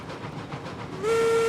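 Steam locomotive whistle in the train game Railroads Online, a loud steady tone that starts about two-thirds through and holds to the end, over rumbling rail and engine noise.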